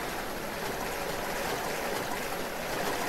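Steady sloshing of feet wading through sewage water in Resident Evil Zero, a continuous watery rush with no breaks, moderately loud and close.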